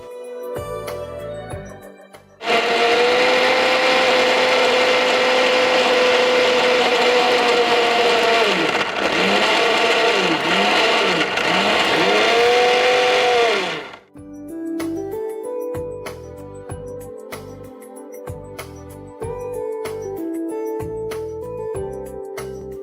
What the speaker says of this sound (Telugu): ఇంకోసారి మిక్సీ పట్టేసుకుందాం